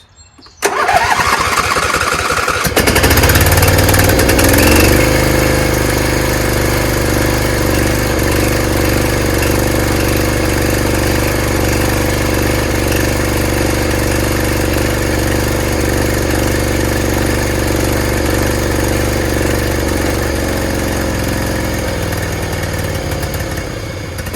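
A Craftsman PYT9000 twin-cylinder lawn tractor engine is tested for whether both cylinders fire. It cranks briefly, catches, and then runs loud and steady at close range for about twenty seconds.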